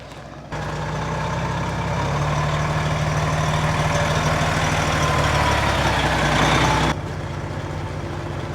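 A Freightliner truck's heavy diesel engine idles steadily and close by, a deep continuous rumble that holds level for about six seconds before easing off, with no talking over it.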